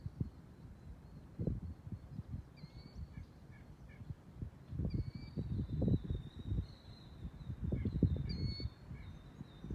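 Birds call outdoors, scattered high chirps and squawks in the distance over a low rumble of nearby rustling and movement, with no talk.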